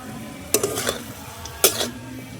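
A utensil stirs greens (shak) cooking in a pan at home, giving two distinct scraping, clattering strokes over a faint background sizzle.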